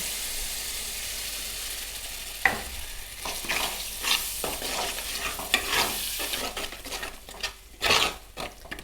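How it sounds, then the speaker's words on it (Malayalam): Ground masala paste goes into a hot pan of chilli-fried oil for fish curry, sizzling steadily while a spoon scrapes and stirs in uneven strokes, with occasional clinks against the pan and no talking. "നമുക്ക് അരച്ചു വച്ചിരിക്കുന്ന അരപ്പ് ഇതിലേക്ക് ഇടാം."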